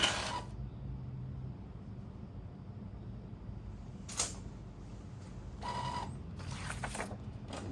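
A Brother DCP-T920DW inkjet printer runs a nozzle check print: a low, steady mechanical hum with a few short bursts of feed and print-head movement, all without voices.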